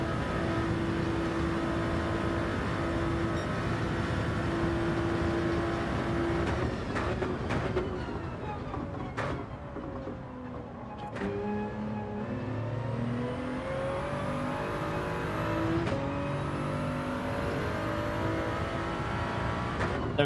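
A race car engine in Gran Turismo 7 revs and drones steadily through gears, its pitch climbing and dropping with shifts, with brief clunks and whooshes over a continuous motor roar.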